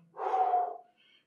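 A single audible breath, a rough exhale lasting under a second, taken during an arm workout with dumbbells, close to the microphone and quiet, followed by a faint higher hiss.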